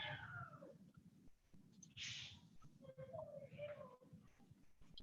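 A cat meows faintly in the background during a quiet indoor moment, a couple of thin, brief calls rising over low room noise, with no clear talk in the foreground.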